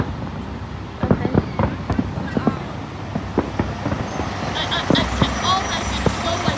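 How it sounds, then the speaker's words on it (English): Fireworks burst at a New Year's 2022 display, sounding as scattered sharp pops and bangs of varying loudness over a steady roadway-like background rumble, with a person talking at times. "Fireworks right there. Fireworks there."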